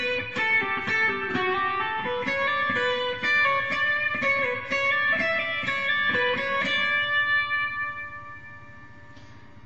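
Pachelbel's Canon, bar 22 phrase, played as a melodic keyboard line with clear sustained notes over a steady accompaniment, moderately loud, ringing out and fading near the end, with no talking.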